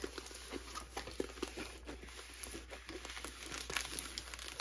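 Plastic wrapping crinkles and crumples continuously as a Diamond Art Club canvas package is unwrapped by hand, close and steady with small tearing rustles throughout.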